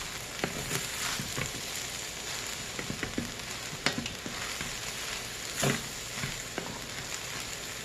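Eggs fry in a hot pan for seafood fried rice, a soft continuous sizzle with scattered clicks and scrapes as the mixture is stirred, fairly quiet and without voices.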